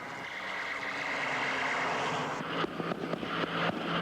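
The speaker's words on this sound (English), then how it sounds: "Fighters make their bombing runs." Propeller-driven fighter aircraft engines drone loudly and steadily in a staged bombing-run display, with the roar swelling and then broken by sharp pulses near the end, no voices.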